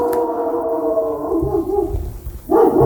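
A person's voice imitates a dog, giving a drawn-out, howling bark that slides downward, pauses briefly and then ends with a sharper yelp.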